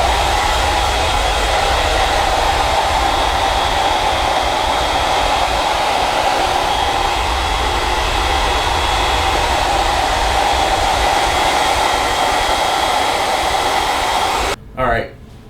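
A hair dryer on its cold setting blows after a straight-razor bald head shave, a loud, steady, continuous rush of air that runs throughout and cuts off abruptly near the end.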